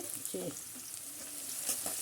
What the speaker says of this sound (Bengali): সিম আর আলু দিয়ে একটা শাক ভাজতে হবে